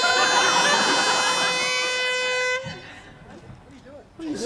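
A loud, sustained air horn blares for about two and a half seconds, then cuts off, followed by fainter background sound and a voice at the end.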